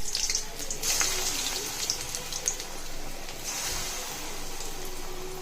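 Gram flour bonda dough drops into hot oil in a kadai and fries with a continuous bright hiss and bubbling crackle, fairly loud and close, with a few sharper pops near the start and no talking.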